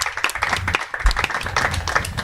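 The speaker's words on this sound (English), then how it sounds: "a round of applause for our beautiful guests" An audience at a summit show claps for guests, uneven and fairly close, with individual claps and a few thumps standing out over a brief burst.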